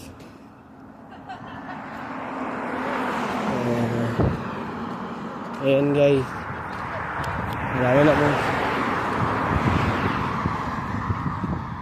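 Cars passing on a road, a broad rising and falling roar of traffic sweeping by several times, with someone talking over it at intervals.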